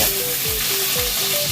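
Garlic and onion sauté in a pan for sweet pork ribs, a loud, dense, continuous sizzle with faint rhythmic scraping underneath, close up and with no voices.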